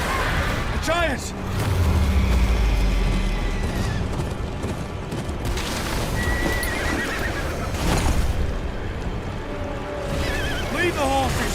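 Horses whinny and neigh repeatedly with clip-clopping hooves at a river crossing in the video game Game of Thrones: Kingsblood, amid rumbling battle noise and shouting voices.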